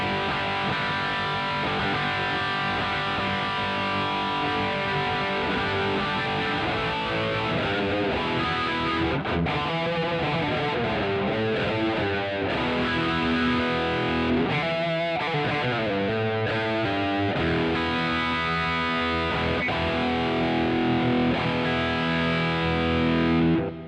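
Distorted electric guitar playing sustained chords and notes, thick with a shimmering, pitch-shifted delay that smears each phrase into the next.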